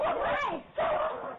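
An excited dog meeting someone for the first time gives a short, close whining yip and bark, with voices heard alongside.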